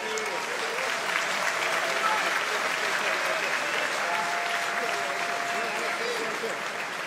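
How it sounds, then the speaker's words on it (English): Sustained applause fills an arena after a GLORY kickboxing bout in Stockholm ends in a TKO, honoring both fighters; steady, dense clapping continues throughout, with faint voices beneath. "a big round of applause for both fighters"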